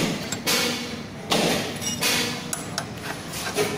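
Metal tool clanks and ratcheting thuds while bolts are tightened on the front pivot arm of a Honda Activa 4G scooter, a few sharp knocks over a busy workshop background, close.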